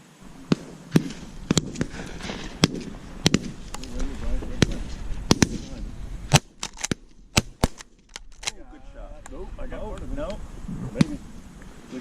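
Shotguns fire at doves on the opening day of a dove hunt. Loud and softer reports pop out in an irregular scatter, some nearby and some more distant, with people talking in between.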